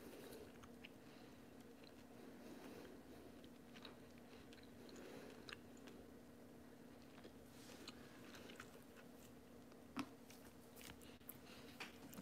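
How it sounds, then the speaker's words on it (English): Someone chews food close to the microphone, with soft wet bites and occasional crunchy clicks spread over a quiet background and a low steady hum, and no talking. "Can y'all hear me chewing?"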